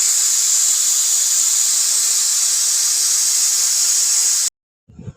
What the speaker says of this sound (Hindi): उसके बाद में कुकर की सीटी अपने आप से शांत हो गई थी